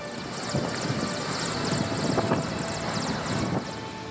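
A helicopter used to move a tiger between reserves drones overhead, its engine and rotor noise holding steady at moderate distance with a slight swell midway, no voices.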